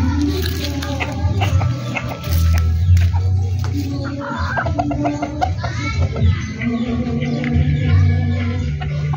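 Chickens cluck and call in a busy backyard, a hen among three roosters, with a rooster cry now and then and steady background activity throughout.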